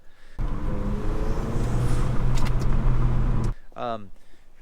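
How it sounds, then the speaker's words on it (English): A Volkswagen Golf R or GTI MK8 engine with an APR intake runs with a turbo intake roar for several seconds, then cuts off, followed by a brief rising whistle-like sweep. "good turbo intake noises, which I'll show you very soon, or now."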